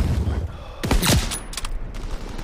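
Call of Duty: WWII gameplay delivers a close, loud burst of rapid machine gun fire, dense overlapping shots packed into about a second, then scattered sharp cracks over the battlefield.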